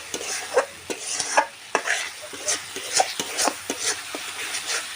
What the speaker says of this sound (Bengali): যাতে মশলাটা থেকে তেল ছেড়ে আসে, তার জন্য একটু ভালো করে আমি কষিয়ে নিচ্ছি।